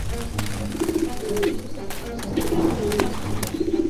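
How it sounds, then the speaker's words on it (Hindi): In a cartoon scene, a pigeon that has fallen to the ground and is caught in kite string coos repeatedly in short bursts, backed by faint clicks and light rustling. "एक कबूतर बुरी तरह जमीन पर गिरा और फड़फड़ा रहा था"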